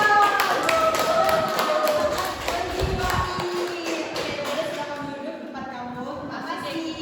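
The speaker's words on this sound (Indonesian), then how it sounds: "Dan tepukan yang gemuruh untuk mereka." A classroom of students applauds during a mock teaching lesson, brisk overlapping claps close by that thin out and fade over several seconds, with voices murmuring underneath.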